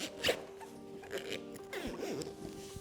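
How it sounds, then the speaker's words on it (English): A zipper is dragged around the bassinet frame of a NUVO twin pram, heard as a few quick, soft ratcheting pulls close by in a quiet room. "connect the zipper, and then pull the zipper the whole way around"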